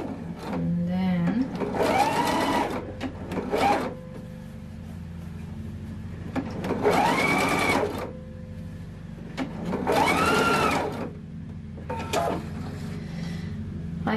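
Short bursts of a sewing machine stitch at the shoulder of a dress made from a pattern, three or four brief whirring runs, close by, with a person talking around and between them.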